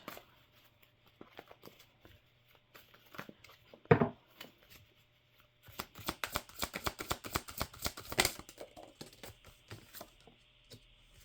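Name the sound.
shuffling and pulling tarot cards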